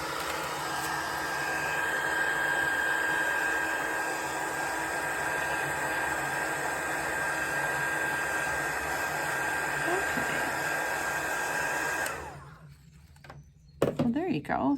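A heat gun blows loudly and steadily while drying distress stain on a dried-leaf decor craft, a constant roaring hiss for about twelve seconds before it cuts off, followed by a couple of faint handling thumps.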